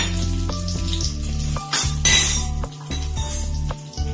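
Dried red chillies and crushed garlic sizzle in about two spoons of hot oil in a pan, a close, steady frying crackle punctuated by metallic clinks of a utensil against the pan and a brief louder surge of sizzling midway.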